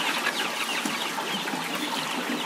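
Chickens clucking continuously in a coop built above a fish pond and maggot-rearing setup on an integrated farm, a busy overlapping chorus of close clucks with no talk.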